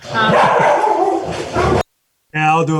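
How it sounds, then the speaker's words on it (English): Pet dogs barking and yipping at home, loud and close, mixed with a person talking, then a short pause before another burst of yelps. "I'm sorry about my dogs."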